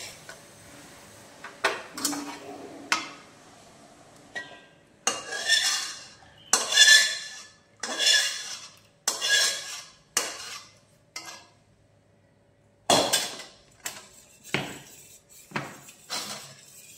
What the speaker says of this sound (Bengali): চিনির এই ক্যারামেলটা আমরা এই দুধের সঙ্গে মিশিয়ে দেবো।